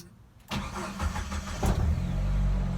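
Jeep engine cranking and catching after a quiet moment, then settling into a steady rumbling idle, close and loud.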